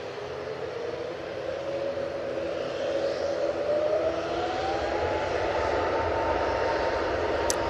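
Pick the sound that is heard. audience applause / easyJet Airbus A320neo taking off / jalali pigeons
easyJet Airbus A320neo taking off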